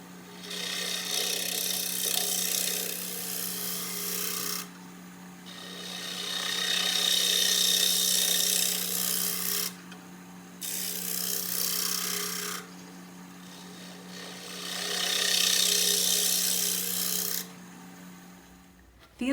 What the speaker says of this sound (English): I like to use my scraper. So this is the inside bowl scraper.